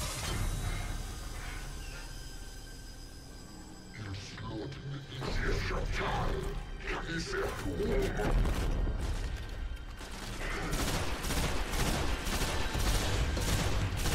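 Weapons fire during a boss fight in the video game Destiny, dense bursts of shots and explosive blasts that keep intensifying, with a voice talking over much of it.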